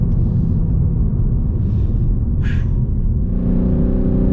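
A BMW M3 drives over a bumpy road with a loud, steady low rumble of engine and tyres heard from inside the car, with brief thumps and rattles from the uneven surface.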